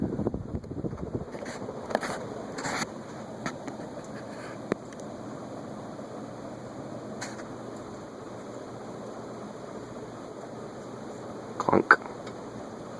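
A 1998 Hunter Original ceiling fan motor runs on high, a steady airy hum with faint ticks and a louder clunk near the end.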